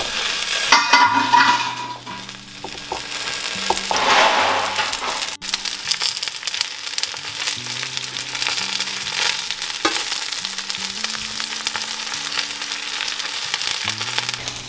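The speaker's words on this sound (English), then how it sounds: "I'm getting this pan hot because I'm gonna char this okra and the tomatoes in here." Halved okra and tomatoes charring in a hot pan, a loud continuous sizzle and crackle with scraping stirs early on and one sharp clack midway, then steady frying, with no voices.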